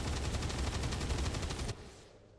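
Rapid automatic gunfire in XCOM 2 with the Long War of the Chosen mod, a loud dense burst lasting under two seconds before cutting off into a fading low rumble.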